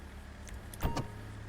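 A car door opening in LSPDFR, the GTA V police mod, gives a short clunk and latch rattle under faint background hum, heard alone without talk.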